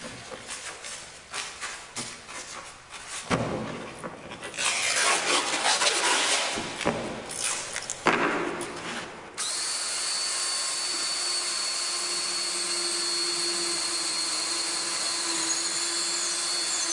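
An electric drill played as an instrument in a live musical performance, its whine rising and falling in loud bursts among other sounds before settling into a steady, sustained high-pitched drone.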